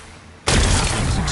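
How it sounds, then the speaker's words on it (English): A loud, sudden blast in the video game Horizon Forbidden West erupts after a quiet lead-in and holds as a dense, roaring rumble to the end. "It's exploding."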